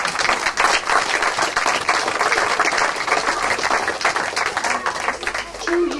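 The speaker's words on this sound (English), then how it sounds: "give them a cheer" A crowd at a federal sports grant announcement for local soccer players in South Hobart claps and cheers, a dense, continuous round of applause that stays loud and even for several seconds.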